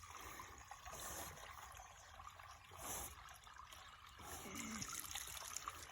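Water trickles steadily out of soaked, boggy ground on a rural plot of land in Ecuador, a soft, continuous dribbling wash heard close by for the whole stretch with no voices.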